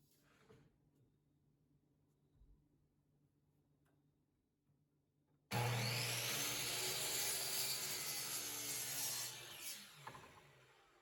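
A power saw rips jamb trim down to width, starting abruptly halfway through after quiet shop ambience and running loud and steady for several seconds before slowing.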